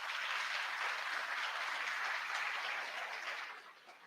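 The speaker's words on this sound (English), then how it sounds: "let me hear you clap" An audience at a university ring ceremony claps in a thick, even wash of applause that holds steady and then thins out toward the end.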